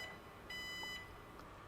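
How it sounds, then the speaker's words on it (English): A Chausson 656 motorhome's key fob lock sets off a single clear electronic bleep from the mirrors, a steady half-second tone standing out over quiet background hiss. "2 bleeps on the mirrors."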